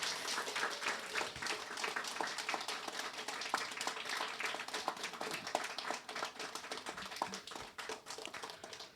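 A large audience claps steadily at a blessing ceremony, dense sustained applause from many hands filling the space throughout.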